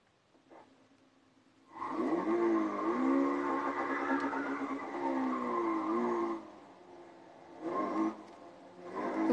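A Lotus car driven in a video game, with a loud, sustained engine whine and tyre skidding that rises and falls for several seconds, then returns in shorter bursts.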